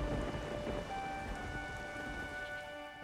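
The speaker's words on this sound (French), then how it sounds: "restons pas sous la pluie" Steady rain pours down in The Witcher 3: Wild Hunt, a continuous hiss with faint tonal music underneath and no talking.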